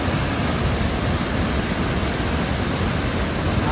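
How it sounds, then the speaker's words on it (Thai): Sri Dit waterfall at Khao Kho in Phetchabun pours in a constant, dense rush of white-noise-like water, loud and unbroken throughout. "น้ำตกกำลังสวยนะครับ"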